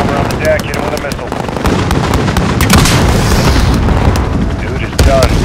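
Missile strike on enemy armor in Call of Duty: Modern Warfare, a loud sustained barrage of booms and blasts with crackling gunfire running throughout, dense battlefield explosions near and far.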